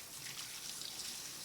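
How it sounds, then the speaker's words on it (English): Water runs steadily from a tap during handwashing, a faint continuous trickle and splash with no voices. "I'm going to finish washing my hands"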